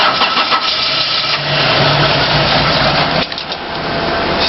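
A truck engine with a faulty fuel-injection trigger wire cranks and catches, running roughly and loudly for a few seconds before dipping as it stalls, with no voices.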